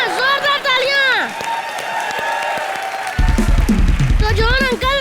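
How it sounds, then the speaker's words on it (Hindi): Loud studio audience applause with cheering on a live comedy show set, a dense burst of clapping that swells near the end, with a host's voice speaking over the start and close. "यहाँ जोरदार तालियां।"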